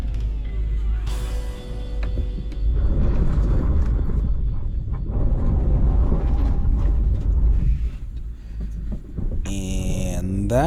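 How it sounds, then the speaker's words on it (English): A 2021 Lexus GX460 high-centers on the rocky Little Morongo Canyon off-road trail, its underbody grinding and scraping in a long, loud, rumbling drag, with a high metallic screech rising near the end. "That is the sound of high centering."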